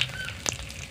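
Mustard oil with whole spices and bay leaf sizzling in a wok, a brief close hiss with a sharp crackle midway.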